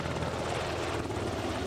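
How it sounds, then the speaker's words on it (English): SH-60 Seahawk naval helicopter flying, a dense continuous rotor and engine roar that stays loud and steady throughout, with no speech. "These ships can carry two SH-60BR Seahawk helicopters."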